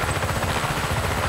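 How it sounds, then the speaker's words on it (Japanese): Helicopter in the video game Just Cause 3, a steady close rotor thump with a dense whirring drone, heard alone for a brief moment. "今度は何、ヘリコプターか"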